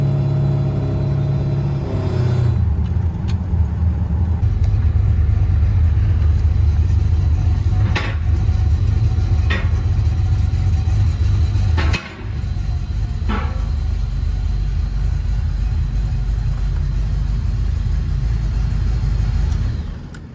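An LT1 V8 idles in a C3 Corvette with a loud, steady, deep rumble that stays close and continuous, with a few brief clicks and a short dip partway through.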